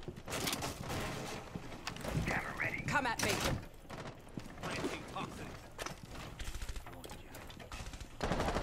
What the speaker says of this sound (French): On entend les balles qui partent.